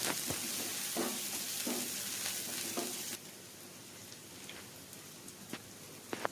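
Chopped onion and green chili fry in hot oil with a steady crackling sizzle, close and fairly loud. The sizzle drops noticeably partway through, and scattered clicks and stirring taps continue over a softer hiss.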